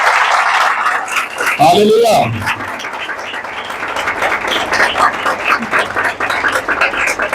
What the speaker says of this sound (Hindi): आए अपने यीशु के लिए भरपूर तालियां बजाएं